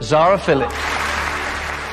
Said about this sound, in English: To rapturous applause from the studio audience